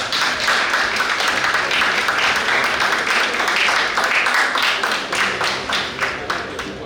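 An audience at a junior science and maths quiz applauds a contestant as he takes his seat, producing a dense, steady round of clapping that carries on for the full seven seconds before tapering slightly at the end.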